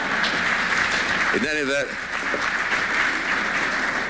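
Audience applause at a televised Buckley–McGovern debate on conservatism and liberalism, a steady broad wash of clapping throughout, with someone briefly speaking over it midway.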